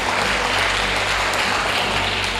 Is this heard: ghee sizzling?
no